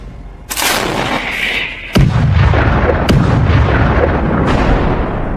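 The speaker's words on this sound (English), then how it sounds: "Ukrainian artillery opens fire with American M777" American M777 howitzer shells firing on and slamming into a Russian vehicle column: a series of loud, heavy booms, one after another, each with a sharp crack and a long rumbling tail.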